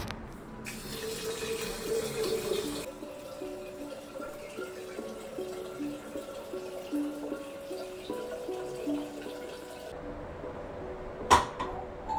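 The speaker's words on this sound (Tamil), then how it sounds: "நான் கொஞ்சம் தண்ணி தான் ஊற்றுவேன்" Water pours steadily from a tap or vessel onto potted plant soil, a soft continuous trickle with gaps, followed by a brief knock near the end.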